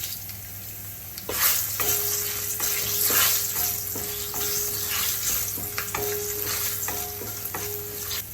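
Asafoetida and three dried red chillies frying in hot oil for Andhra gongura pickle, a steady close sizzle with repeated scraping strokes of a spoon stirring the pan, no voices.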